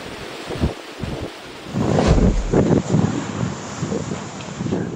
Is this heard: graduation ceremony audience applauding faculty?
no